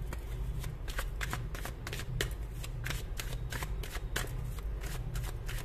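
A deck of tarot cards is shuffled close up, with repeated riffling bursts and soft flicking slaps in a steady rhythm over a quiet room hum.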